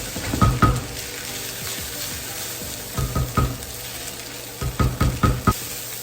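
Mango fried rice with vegetables stir-frying in a pan, a constant sizzle broken by bursts of clattering as the pan is shaken and tossed, close up, with no voices.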